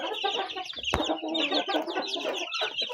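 Chickens in a farm cage clucking and cheeping continuously at close range, with a sharp knock partway through.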